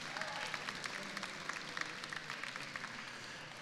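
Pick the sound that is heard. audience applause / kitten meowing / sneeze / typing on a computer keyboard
audience applause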